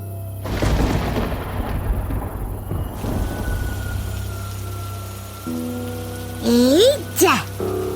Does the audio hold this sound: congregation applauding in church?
no